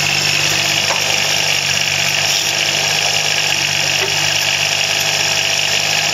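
A John Deere 15 mini excavator's engine runs steadily at close range, giving a loud, constant diesel drone with a rattling vibration and no pauses.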